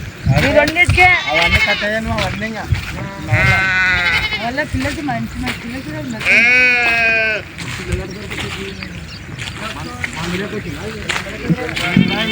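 A flock of sheep bleats at night in a village in Jogulamba Gadwal district, with loud, close, wavering cries repeating and overlapping in quick succession against a restless background.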